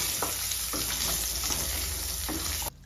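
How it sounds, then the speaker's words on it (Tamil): Eggplant pieces with salt and turmeric are stirred in hot oil in a kadai. A close, busy sizzle runs throughout with scraping stir strokes mixed in, then cuts off abruptly near the end. "கடாயில் ஒரு 2 tablespoons வரைக்கும் எண்ணெய் சேர்த்துட்டு கட் பண்ணி வச்சுருக்கிற கத்திரிக்காய், கொஞ்சமாக உப்பு, அப்புறம் மஞ்சள் தூள் சேர்த்துட்டு எல்லாத்தையும் ஒன்ஸ் நல்லா மிக்ஸ் பண்ணி விட்டுருணும்"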